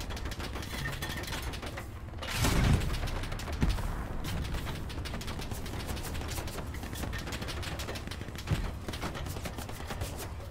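A WWII tank crew fires in Hell Let Loose on the Foy battlefield. One heavy, booming shot lands early, and a thinner crack follows later, all over a constant rattle of distant gunfire and engine rumble.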